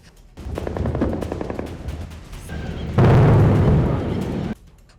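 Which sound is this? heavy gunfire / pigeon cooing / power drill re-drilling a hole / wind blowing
heavy gunfire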